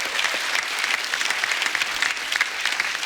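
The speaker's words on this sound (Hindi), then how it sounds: "जोरदार तालियां उनके लिए।" Dense, steady studio audience applause on The Kapil Sharma Show comedy show, loud and continuous for about three seconds with a busy texture of many hands clapping at once.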